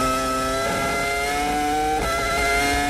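A 2005 Formula 1 car heard onboard, its high-pitched engine note climbing steadily under strong acceleration, with a brief lift and a gear change near two seconds before it winds up again, loud and continuous.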